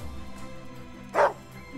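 A single sharp dog bark in the video game Wargroove sounds over a steady low game-music backdrop, short and fairly loud.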